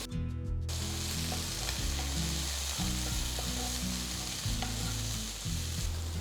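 Mixed vegetables with sweet corn and peas sauteing in a pan, a steady loud sizzle and frying crackle with occasional stirring scrapes, no voices.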